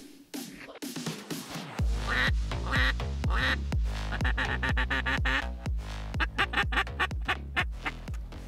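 Ducks quack repeatedly as they come into decoys over water during a North Dakota hunt, the calls loud and near in quick, uneven bursts that carry on for several seconds with no talk.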